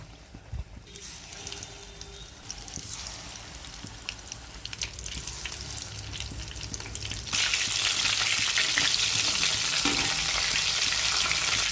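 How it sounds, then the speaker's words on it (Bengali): Battered prawns and chicken pakora go into hot oil one by one. The bubbling sizzle builds in steps and then becomes a loud, steady, dense frying roar. "এভাবে সব একটা একটা করে চুবিয়ে নেব, তেলে ছেড়ে দেবো"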